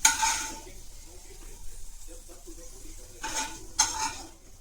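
Potato bhujia fries in a kadai, a soft sizzle under bursts of scraping as a spatula stirs against the metal pan. There are two or three stirring strokes, close and moderately loud.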